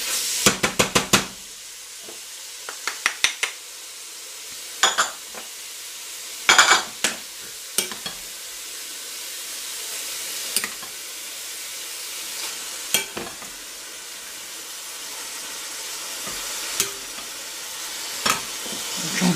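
Chili con carne frying in a pan as tomatoes go in, a steady soft sizzle broken by scattered clinks and stirring scrapes against the pan, with no talking.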